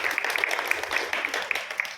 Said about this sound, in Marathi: या सर्वांचं पुन्हा एकदा टाळ्या वाजवून आपण स्वागत करूया.